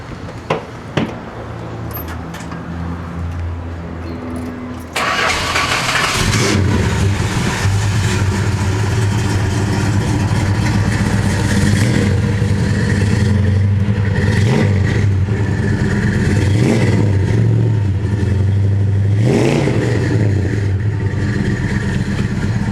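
A 1969 Plymouth GTX 440 with Flowmaster exhaust cranks and fires at about five seconds, then settles into a loud, steady rumbling idle broken by several sharp revs, heard up close.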